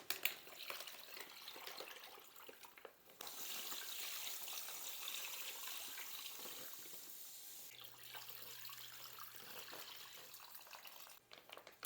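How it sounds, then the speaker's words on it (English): Water from a tap pours into a bag holding a brining turkey, a steady splashing rush that stops briefly near the start and returns. It is faint and close, with no speech. "just keep pouring in water until it covers the bird all the way to the top"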